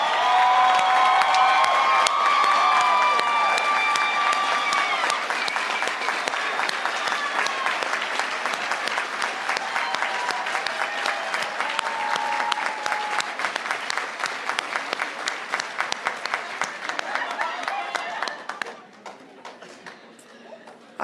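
Sustained audience applause fills a nursing college graduation hall for about eighteen seconds, dense and steady with scattered claps standing out, then tapering off to near silence at the end.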